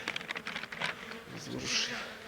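Carniolan and Buckfast honeybee colonies in a hive during a late-winter inspection, a close, uneven buzzing hum with brief louder surges of wingbeats, heard alone without voices.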